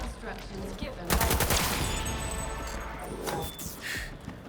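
Light machine gun fire in Cyberpunk 2077 erupts as a loud, dense burst of rapid shots, then gives way to sustained rattling, clatter and game effects at lower intensity.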